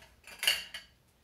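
A fork mixing eggs and milk into custard in a bowl makes two quick, close clinks of metal against dish, the first louder, followed by quiet.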